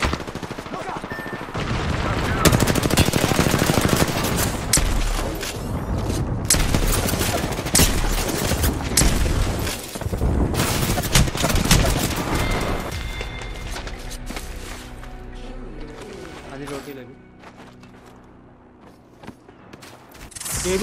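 Dense Apex Legends gunfire rattles in rapid automatic bursts and heavy shots for most of the span, with mechanical clanks mixed in, then thins near the end.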